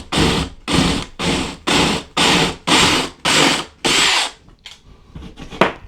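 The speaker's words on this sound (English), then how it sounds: "now we're ready to pre-drill the hole for the hardware" A power drill pre-drilling a hole for closet system bracket hardware with a 1.5 inch bit, running in eight short bursts close to the mic, then faint handling clicks and taps as it stops.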